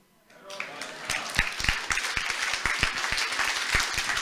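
An audience at a stage event breaks into applause that swells quickly into dense, sustained clapping, with a voice calling out over it.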